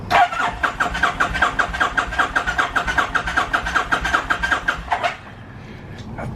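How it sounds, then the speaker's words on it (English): A motorcycle with mechanical damage, bought sight unseen, cranks in a rapid, even rhythm for about five seconds without catching, then the cranking stops abruptly; no one speaks. "All right, well, let's try to start it."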